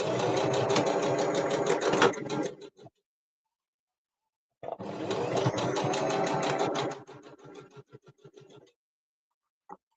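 A sewing machine stitching a memory bear runs in two loud close bursts of rapid mechanical chatter, each slowing to a stop, with a quiet pause between them and no talk.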